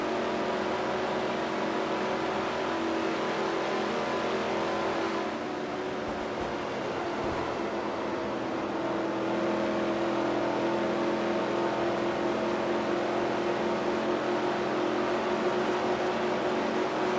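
Stock cars roaring around the track at the 1961 World 600, a dense, continuous engine drone from a full field with a brief dip before the pack noise swells back, loud and unbroken.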